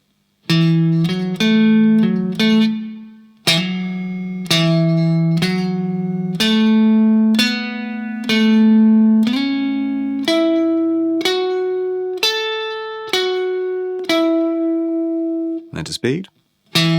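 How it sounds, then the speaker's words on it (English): An electric guitar picks a slow solo lick, clear sustained single notes stepping forward and back in a repeating sequence, loud and close, ending with a brief scrape. "And then really slowly so you can hear the sequencing effect, the forward back thing."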